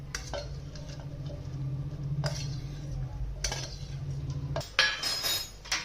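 Ingredients go into a steel mixer jar with light clinks and taps, a few sharp metallic knocks over a low background hum, close by and fairly quiet.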